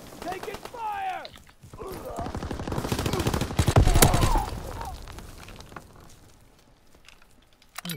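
Rapid gunfire bursts from a Call of Duty WWII match on the Shipment map rattle loudly through the middle of the clip, mixed with game voice callouts before and after.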